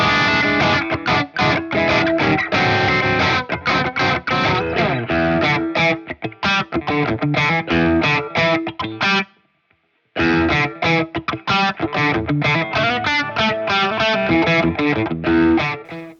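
A Fender Mexican Acoustasonic Player Telecaster plays loud, driven electric tones with distortion and effects, strummed chords running almost continuously apart from a brief pause midway.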